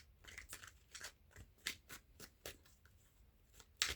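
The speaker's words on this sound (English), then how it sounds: "Let's start shuffling." Quiet, close crisp snaps and riffles of tarot cards being shuffled, coming in quick irregular bursts with no talking.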